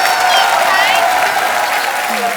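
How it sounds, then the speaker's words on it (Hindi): Loud, dense applause from a large television studio audience fills the whole stretch, steady and continuous with cheering mixed in. "श्रद्धा कपूर और अर्जुन कपूर के लिए जोरदार तालियां।"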